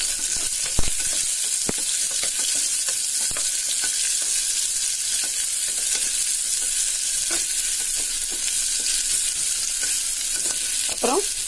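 Chopped large onion sizzles and fries in hot oil in a pan while being cooked down for a tomato sambar without lentils, a steady bright hiss with occasional stirring clinks and scrapes, close and fairly loud.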